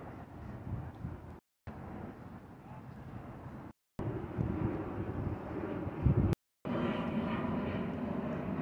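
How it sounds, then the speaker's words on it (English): An airplane passes over a fishing pier at Solomons Island, a steady broad rumble mixed with wind buffeting the microphone, broken by several abrupt brief dropouts. "There's a plane that's going by."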